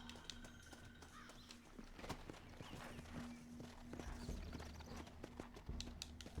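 Horse hooves clip-clopping at a walking pace in the video game Red Dead Redemption, against a steady background hum, with faint birdsong; no talking.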